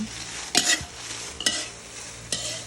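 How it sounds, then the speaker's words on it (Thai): Chilies dry-roasting over a charcoal stove while being stirred, for Thai pla ra bong: three sharp scraping strokes of a utensil against the pan ring out over a low, steady crackle, close and with no talking. "ตอนนี้เรากำลังคั่วพริกอยู่ค่ะทุกคน"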